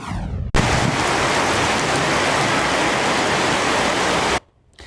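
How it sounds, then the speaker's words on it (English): A heavy downpour from a storm system over northern Georgia roars as a steady, dense wash of rain. It starts and stops abruptly, with a brief quieter stretch at each end. "That same system dumping 10 inches of rain in parts of northern Georgia, washing out roads and flooding homes."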